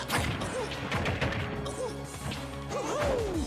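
Smash hit from an up smash in Super Smash Bros during a competitive online match, heard as a sharp impact crack over busy game effects and music, with a rising whoosh near the end.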